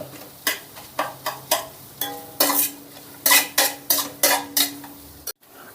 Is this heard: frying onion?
yes